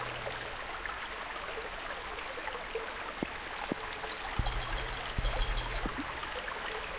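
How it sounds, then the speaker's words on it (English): Flowing water in a haunted PS1-style demo video game, a steady soft hiss of running water like a stream, fairly quiet and continuous, with a few faint clicks and thumps and no speech. "I figure that is water."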